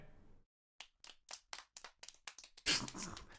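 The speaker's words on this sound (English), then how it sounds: "Big round of applause." Sparse, uneven hand claps ring out one after another in a video game scene, followed by a brief louder burst of applause.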